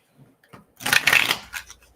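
A deck of oracle cards is shuffled in one brisk riffling burst, close and crisp, preceded by a few faint taps and handling sounds.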